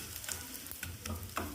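Green mustard seeds fry briefly in sesame oil, giving a soft close sizzle with a few sharp pops and crackles, faint and quick, with no voices.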